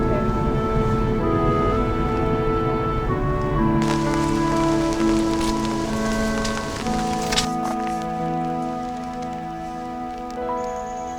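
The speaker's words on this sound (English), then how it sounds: "Oh, I guess it's raining around here." Rain falling outdoors, a steady close patter of drops on surfaces that continues throughout, mixed with sustained tonal hums in the background.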